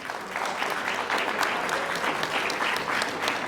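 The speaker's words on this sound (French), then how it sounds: "Merci d'être applaudi pour nos élus." An audience at an anniversary event gives steady, sustained applause for elected officials, a dense wash of many hands clapping with no voices over it.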